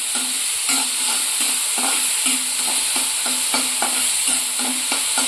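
Tomatoes sautéing in a pan for pirandai rasam, a steady close sizzle broken by a regular scraping rhythm of stirring, with no talking.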